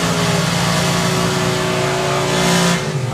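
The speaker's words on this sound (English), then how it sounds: "Well, you heard the throttle stop come off for Jasmine." A drag racing car at an FIA drag racing event launches at full throttle, a loud, sustained engine roar that holds steady for about three seconds before dropping off, with no talk over it.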